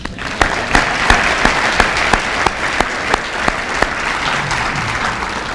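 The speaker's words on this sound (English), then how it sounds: "let's give her a round of applause" Audience at a senior awards banquet claps steadily for an honoree, sharp individual claps standing out over a sustained wash of applause from start to finish.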